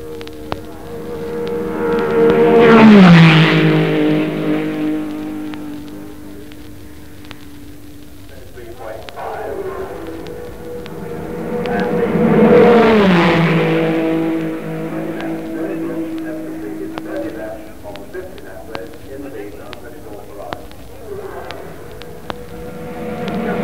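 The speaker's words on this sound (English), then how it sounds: "The Ferrari at full chat is an impressive sound." A Ferrari Formula One Grand Prix car at full speed on a racing circuit, its engine rising in pitch as it approaches and fading away, passing twice with a quieter gap between.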